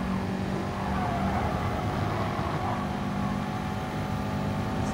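Race cars in the GT Sport video game drone continuously on track, with a steady engine roar and faint tire noise that stays at one moderate level throughout, with no talk.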